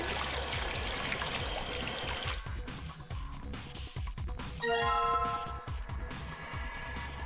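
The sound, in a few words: water being poured in video game Zero Escape: VLR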